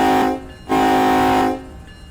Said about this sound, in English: Space bar is your horn.